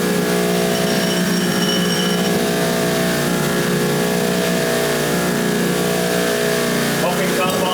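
A buffing wheel spins up with white chrome compound on steel, giving a loud, steady motor hum and whine that holds throughout, with a voice talking over it.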